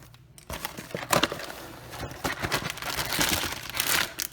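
The plastic bag around an Amy's sweet and sour bowl meal crinkles and crackles up close in irregular bursts of rustling, with no talking.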